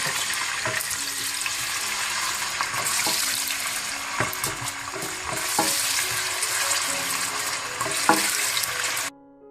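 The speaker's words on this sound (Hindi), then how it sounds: "सबसे पहले आप तेल गरम कर लें, इसमें आप प्याज को डाल दें" Onions frying in hot oil for biryani, a steady loud sizzle with occasional stirring clinks and scrapes close by, running without pause until it cuts off near the end.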